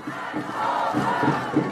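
A crowd at a political campaign rally at Noeun Station Plaza in Daejeon roars and cheers, a dense, rising wall of voices with chanting swells and no clear individual speech.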